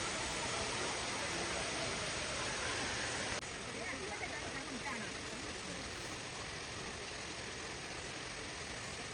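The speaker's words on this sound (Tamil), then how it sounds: "ஃபால்ஸ் வந்துட்டோம் சத்தம் கேட்குது பாருங்கள்" Toccoa waterfall pours steadily over rocks, a dense, continuous roar of falling water that fills the whole clip at an even level, with no voices heard.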